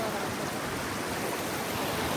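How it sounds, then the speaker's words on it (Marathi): Fast-flowing stream of water on a monsoon trek, a steady broadband rush close by, continuous and unbroken for two seconds. "किती जोरात चालू आहे पाणी."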